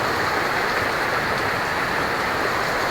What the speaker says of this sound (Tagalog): Tumutulo na naman yung ulan